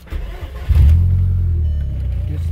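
A Volkswagen Jetta Mk4 with the 1.8T engine starts close by, with a brief crank before it catches and settles into a loud, rumbling idle.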